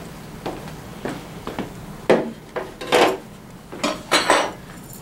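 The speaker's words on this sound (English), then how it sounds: "I'm going to grab 2 of my little C-clips here" Small metal C-clips with attached nuts and bolts are picked up for a Tao Tao CY50D scooter's front fender. A scattered series of light, close metallic clinks and rattles rings out with no talk.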